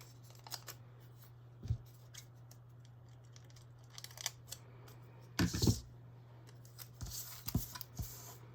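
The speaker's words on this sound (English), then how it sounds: "I can actually do this with my scissors." Scissors snipping paper while trimming pieces for a home planner spread, a few short crisp cuts spaced apart, close and quiet over a low steady hum, with soft handling rustles between.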